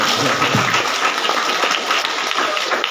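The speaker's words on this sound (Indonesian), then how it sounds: "Tepuk tangan yang buat itu." Steady applause from a crowd at a university graduation ceremony, dense clapping filling the whole stretch at an even level with no voices on top.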